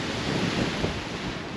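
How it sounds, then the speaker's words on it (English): Steady wind roars and buffets the microphone, a constant rushing noise with no voices. "It's a bit windy here."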